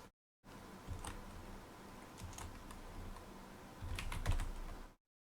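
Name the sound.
typing on a computer keyboard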